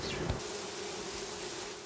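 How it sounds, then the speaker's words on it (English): Honeybees at a backyard urban hive in San Francisco buzz steadily and densely, a close, continuous drone of many wings fanning together without any voices. "they fan their wings to distribute that smell"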